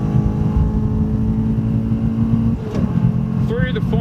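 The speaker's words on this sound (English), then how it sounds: "Now we're full throttle all the way out of that turn." A race car drives on a circuit at Phillip Island and pulls out of a turn at full throttle. Its engine drones steadily and loudly from inside the cabin, while someone talks over it throughout.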